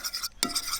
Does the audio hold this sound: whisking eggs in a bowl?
yes